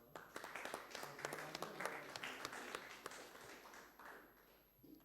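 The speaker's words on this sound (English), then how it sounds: "Round of applause." Audience applause at a demoscene party competition, a moderate burst of clapping with sharp individual claps over steady background noise, lasting throughout before tapering slightly near the end.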